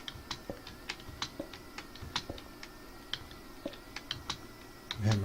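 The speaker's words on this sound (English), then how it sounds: "Man, my keyboard is so loud." Loud clicking of a computer keyboard, a fast, uneven run of sharp keystrokes close to the mic with no talking over it.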